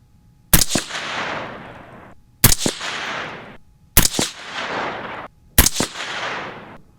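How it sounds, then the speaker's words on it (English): Four loud, close gunshots from a Uintah Precision UPR15 rifle in .223 Rem, spaced about one and a half seconds apart, each a sharp crack followed by a long outdoor echo. "We're going to shoot 2 5-shot groups."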